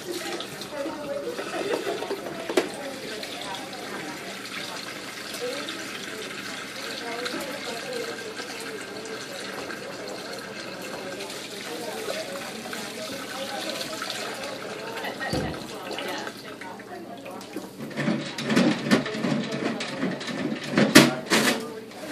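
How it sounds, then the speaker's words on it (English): A tap running steadily while hands are washed at a sink in a phlebotomy teaching setting, a continuous moderate water stream with splashing that grows louder near the end, under a voice talking. "you're going to wash your hands."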